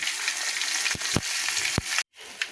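Green chilies and tempering sizzle loudly in hot oil while cooking dal with bitter gourd, a steady broadband crackle broken by a few sharp clicks and a brief cut to silence near the end.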